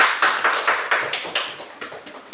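A classroom of pupils clapping together in a quick, even rhythm, with sharp, evenly spaced claps close by and no voices over them.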